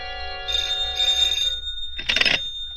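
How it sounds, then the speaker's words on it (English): A telephone rings in two electronic bursts, followed after a short pause by a brighter, harsher tone, clear and fairly close against a quiet background with no talking. "At 8, my phone rang."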